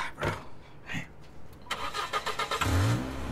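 A car engine cranks and catches, then revs and pulls away nearby, following a few scattered knocks and rustles at moderate loudness.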